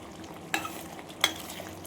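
Madurai-style mutton chukka gravy sizzles steadily in a pan while a spoon scrapes through it twice, each stir a sharp close clack over the constant frying hiss.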